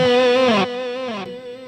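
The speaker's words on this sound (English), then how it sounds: "We can have a long delay" A distorted electric guitar note rings out and repeats through a long delay effect in an Iron Maiden-style tone, the sustained tone stepping down in level as each echo follows, loud and alone.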